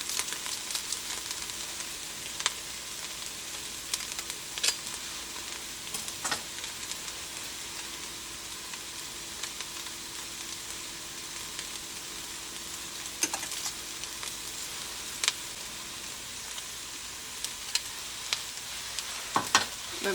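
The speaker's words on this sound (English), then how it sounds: "I'm going to add in 2 cloves of minced garlic" Two big cloves of minced garlic sizzle steadily in a frying pan, a continuous bright crackle with occasional scrapes and taps of stirring, close and moderately quiet, with no talking.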